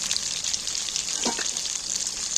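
Potatoes, lightly salted, hit hot oil in a wok-style kadai, giving a steady close-up sizzle with a brief burst of splashing as they slide in, and no voices.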